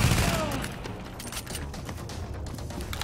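Rapid turret gunfire in the video game The Division, a dense burst of shots at the start that settles into a steady rattle of fire with booming low rumble throughout.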